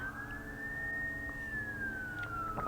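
A single police siren wails through a small residential neighborhood, its tone rising slowly, holding, then falling away over a low background rumble, moderately distant and alone.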